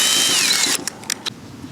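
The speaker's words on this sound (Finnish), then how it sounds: "Ja sitten porataan tällä 8 millisellä, mikä on juuri sen ruuvin paksuus." A power drill with an 8 mm bit bores into metal while building solar panel brackets for a camper van conversion. A steady, close whine runs for under a second, then stops, followed by a few small clicks and knocks.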